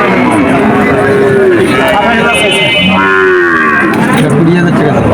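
A calf moos loudly and close by at a busy cattle market in Betaga, several drawn-out bellows over constant crowd chatter and people talking nearby.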